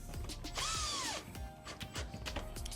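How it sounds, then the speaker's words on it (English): A power driver spins screws into a GE refrigerator water filter housing, giving a short whirring burst with a rising and falling whine among ratcheting clicks and small mechanical knocks. "Go ahead and put the 2 1/4 screws."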